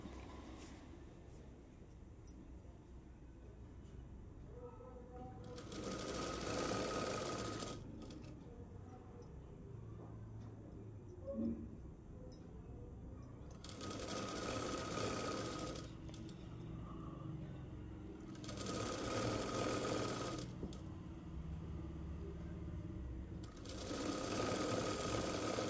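An electric sewing machine stitches an umbrella-style dress in four sustained bursts, each a few seconds long, separated by quieter pauses with faint handling sounds and a low background hum.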